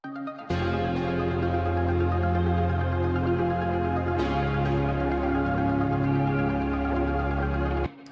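Two layered electric guitars and a synthesizer play a dense, full chord bed for a verse, with one chord change midway, sustained and loud with no voices.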